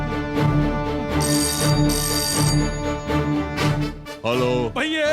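A telephone rings repeatedly in bright, trilling bursts during a call to a police DCP in a Hindi-dubbed film scene, loud and clear with background score underneath.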